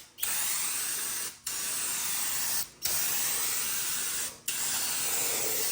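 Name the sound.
spray-on window tint spraying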